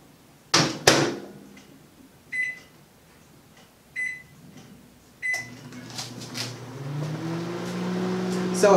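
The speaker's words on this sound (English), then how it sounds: "I'm going to just put this in the microwave for about 30 seconds and warm it" Water is warmed in a microwave oven: sharp door and button clicks and short beeps sound first, then the oven starts up with a steady, rising hum.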